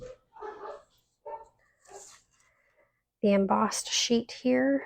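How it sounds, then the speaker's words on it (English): Dogs bark and yip in the background of a home craft room, short scattered bursts heard while someone talks over them. "If you guys hear the dogs barking"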